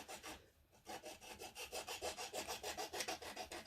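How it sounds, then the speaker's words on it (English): A file rasps back and forth over the plastic tabs of an NX-01 Enterprise model kit, about a dozen quick, even strokes after a brief pause, close and steady with no talking. "So I'm just filing away a bit of the tabs here"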